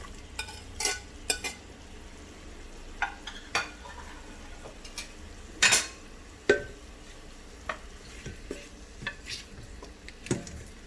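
Tomatoes go into a rice cooker pot for vegetable biryani and are stirred, with soft scraping, occasional clinks of the utensil against the pot and a faint sizzle, close and unhurried.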